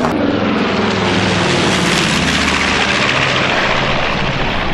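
Firefighting air support aircraft flying over a wildfire, a loud continuous propeller and engine roar with a rough droning rumble, close overhead, with no voices.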